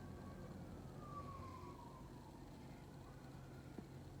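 Emergency sirens wailing far in the distance, a faint gliding tone barely rising above steady outdoor background noise, no voices.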